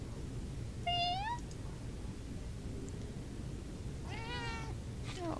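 A cat meows twice, a clear rising cry followed about three seconds later by a longer wavering one, both fairly close over a faint hiss.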